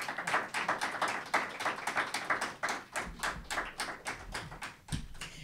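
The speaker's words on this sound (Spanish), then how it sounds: "Así que doblemente o aplauso, por favor." An audience at a round-table talk on women in music claps, a lively patter of hands that swells and fades in uneven bursts for several seconds with no talking.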